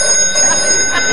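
A telephone rings with a steady, bright electronic tone that holds continuously through the short moment, loud and close.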